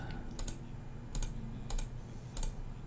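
Mouse or key clicks on a computer while channels are selected in the Chirp radio programming software on a Raspberry Pi, four crisp, evenly spaced clicks over a low room hum, close and quiet.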